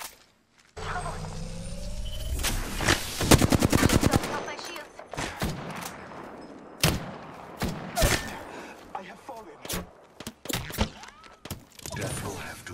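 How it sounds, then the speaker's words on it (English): Heavy gunfire erupts in a Halo-style battle, opening with a rapid automatic burst and followed by scattered single shots and short volleys. A voice speaks intermittently over the shooting. "Getting shot at. Shots fired at me."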